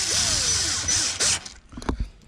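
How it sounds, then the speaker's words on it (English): Power drill driving screws into the splitter tunnels of a 2018–2023 Ford Mustang, a close, loud whirring run that winds up and down, followed by a few short clicks and knocks. "And then at this point, just put your screws in."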